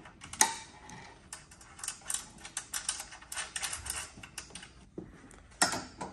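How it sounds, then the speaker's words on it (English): A 13mm spanner and socket tighten a nut and bolt while a Land Rover 110 five-door soft top conversion kit is fitted, giving a close series of light metallic clicks and ratcheting ticks in irregular bursts, with short pauses between. "Okay, so with a 13mm spanner and socket, you can then just tighten up the nut and bolt."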